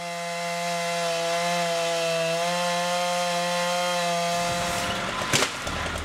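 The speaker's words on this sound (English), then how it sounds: "They get up and they start cutting with a chainsaw" A chainsaw cuts tree branches during tree removal in Chicago, its engine holding a steady, close, buzzing whine for several seconds before it cuts off, leaving rustling and a brief clatter.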